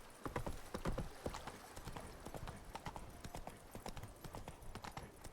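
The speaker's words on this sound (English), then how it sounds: "Run, Roach." Hooves of a horse galloping in The Witcher 3: Blood & Wine, a steady rapid clip-clop that runs unbroken through the whole stretch, close and fairly loud with no voices over it.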